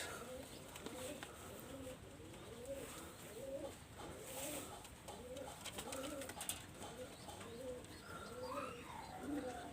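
Imported flying and breeding pigeons cooing in repeated low rolling phrases, several birds calling steadily throughout, with light chirps and background noise.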